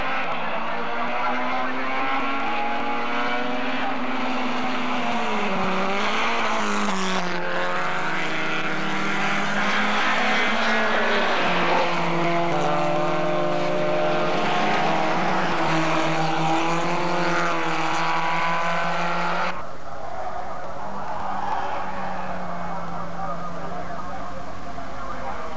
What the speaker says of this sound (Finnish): Kyseessä Formula Ford 1600 ja Formula VV 1300 yhteislähtö